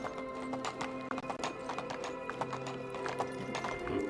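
Horse hooves clip-clop steadily in the video game Medieval Dynasty, a brisk, even rhythm of close, crisp hoof taps with a faint whinny mixed in.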